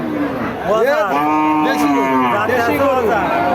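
A native cow with four teeth lets out a long, loud, nearby moo that rises and falls, with other cattle lowing faintly under murmuring crowd noise at a cattle market.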